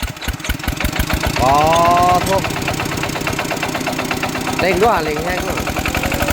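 A walking tractor's engine runs close by with a rapid, steady, thumping idle that holds throughout, while people chat over it.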